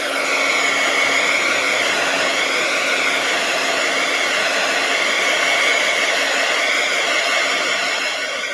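A hair dryer blows steadily on fresh paint during a live art session, a loud, continuous whooshing drone with a faint whine that holds unbroken for the whole stretch.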